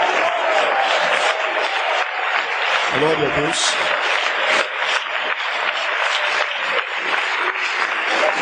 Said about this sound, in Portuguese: Irmãos, pode bater as palmas para Jesus